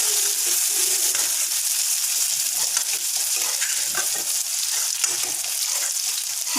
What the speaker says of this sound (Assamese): পিঁয়াজখিনি অকণমান ভালদৰে মই ভাজি ল'ম।